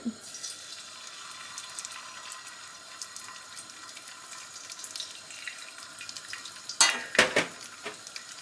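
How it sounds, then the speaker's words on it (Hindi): Bay leaves, ginger and garlic frying in a pan for Chicken Korma: a faint, steady sizzle with a few louder clatters of stirring near the end. "गार्लिक और हल्का सा फ्राई करेंगे फ्यू सेकंड के लिए, 30 सेकंड के लिए"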